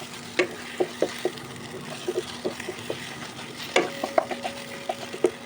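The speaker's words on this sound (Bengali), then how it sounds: "ডিমটা দেওয়ার সাথে সাথেই নাড়তে হবে।" Eggs scrambled and stirred while frying in a pan for a dhaba-style egg tadka: a soft sizzle under repeated sharp taps and scrapes of a spatula, quickening near the end, with no talking.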